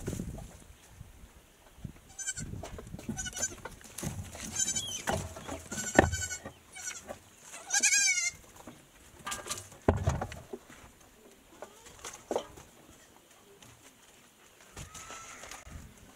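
Goats bleat in a small village stable, several wavering cries rising over soft shuffling and pattering, some near and loud, others fainter, with quiet gaps between calls.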